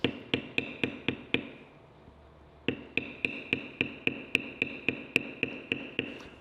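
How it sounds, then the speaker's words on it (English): A maul strikes a beveler on a leather tally book cover in steady, sharp taps, close and clear, about six quick blows, a short pause, then a longer even run of strikes. "Okay, now I didn't bevel this one, so I'll go ahead and do that."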